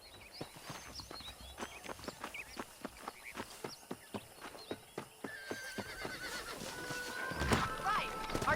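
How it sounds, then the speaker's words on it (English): Horse in a video game whinnies and clops along in a steady walking rhythm of hoofbeats, with a longer whinny near the end over faint ambient birds and game background. "Control that horse, will you?"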